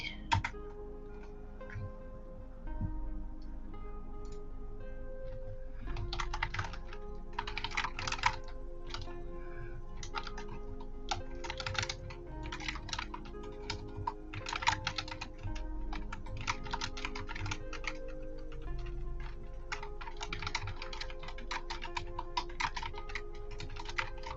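Steady computer keyboard typing, close and continuous, with bursts of rapid keystrokes over soft background music and no speech.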